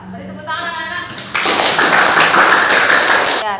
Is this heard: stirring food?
no